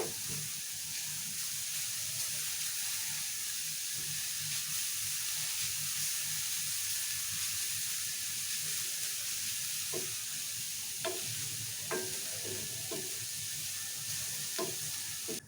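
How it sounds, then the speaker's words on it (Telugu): Carrots frying in ghee in a pan, a soft continuous sizzle with occasional light scrapes and clicks of a spoon stirring, fairly quiet and alone. "క్యారెట్ కూడా బాగా ఫ్రై చేసుకోవాలి మంచిగా నెయ్యిలో మగ్గి"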